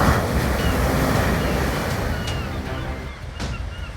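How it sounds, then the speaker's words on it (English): Ocean waves break at low tide off San Diego, a broad continuous roar of surf with wind buffeting the microphone, fading slightly toward the end. "San Diego waves get big and dangerous at low tide."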